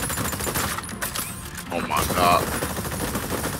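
Gunfire at targets in the sci-fi shooter Exoprimal, dense rattling bursts mixed with game effects and music, loud and continuous, with a brief spoken exclamation over it.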